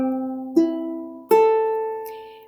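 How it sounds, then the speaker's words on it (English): A ukulele's open strings are plucked one after another, each bright note ringing out and slowly decaying, close and clear, with no voices. "So we have 4 strings on our instrument and they sound like this"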